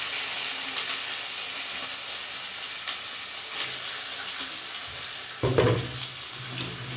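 Tap water runs steadily into a sink while squid is rinsed for cooking, a continuous hiss with a brief louder splash and clatter near the end.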